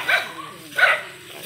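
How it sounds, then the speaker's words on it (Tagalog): Two sharp dog barks about a second apart, the second slightly louder, in a rural setting with faint background sound between them. "Ay, may aso ba ganay?"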